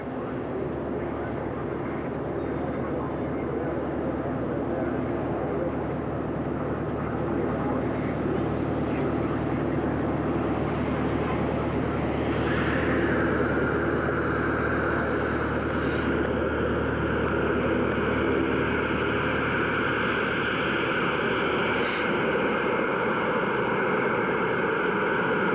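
Northrop N9MB Flying Wing, a restored propeller-driven aircraft on a test flight, drones steadily at a distance as it passes across, its engine tone rising slightly midway and holding under a broad wash of wind-like noise.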